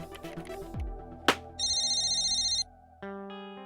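A mobile phone rings in a restaurant: a bright electronic ringtone melody plays in short bursts, loud and near, after a brief whooshing swell.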